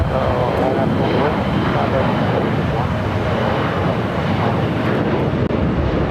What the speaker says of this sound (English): Legion Air in the Together We Fly livery, flight 779, coming in from Sioux Falls. It's an A320.